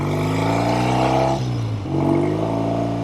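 A 1970 Triumph TR6 Tiger vintage motorcycle engine running, a steady droning exhaust note that dips briefly as the revs fall, then picks back up and holds a strong, close, continuous tone.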